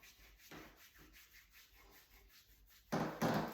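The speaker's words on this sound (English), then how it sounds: "rubbing all the way around, rubbing the neck" Hands rubbing around the neck during a lymphatic drainage massage, a soft, close brushing friction that repeats faintly, then two louder rubbing strokes near the end.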